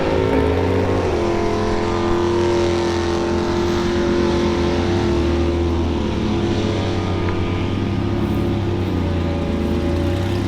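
A van engine revs hard in first gear during a van race event, a loud, close, steady droning roar with sustained high revs and a brief rise in pitch near the start, heard without speech.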